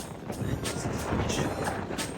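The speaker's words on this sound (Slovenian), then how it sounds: "Malo ga piha." Wind buffets the microphone during a bike ride near the island of Cres, a close, rough rushing that swells and fades in gusts over a couple of seconds.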